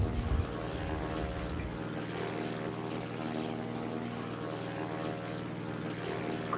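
Propeller aircraft engine drones steadily at takeoff power in a flight combat video game, a loud continuous hum with a brief rumble at the start and no talk over it.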